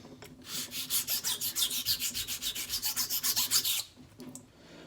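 A straight razor's bevel scrapes back and forth across a sharpening stone in about twenty quick, even rasping strokes, close and moderately quiet, before stopping.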